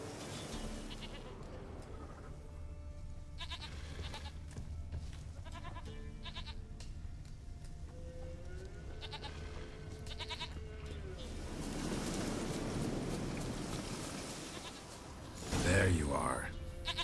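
A goat bleats in The Witcher 3 video game, a few short bleats in an outdoor game scene amid ambient sound and a voice speaking, with a louder burst near the end.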